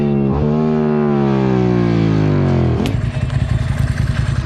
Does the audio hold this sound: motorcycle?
yes